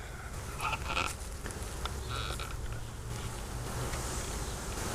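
A dense, steady buzz of many honey bees up close at an open hive during an inspection, continuous and unbroken, with faint rustling and clicks underneath.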